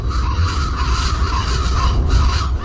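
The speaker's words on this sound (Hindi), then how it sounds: "वही कौवे थे जिन्हें अभी अभी सपने में उसने देखा था।" Crows caw repeatedly over a sugarcane field, harsh overlapping calls rising and falling against a dense, steady outdoor background.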